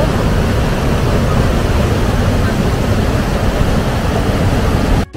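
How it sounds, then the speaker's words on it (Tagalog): A strong, fast-flowing river in Tashkent rushes in a loud, steady broadband roar of turbulent water, close and continuous, ending in a sudden cut. "Ang lakas ng alon."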